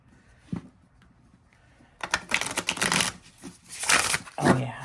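A deluxe edition tarot deck is shuffled up close, a soft tap early on giving way to dense riffling bursts of card flutter that come in two long rustling waves.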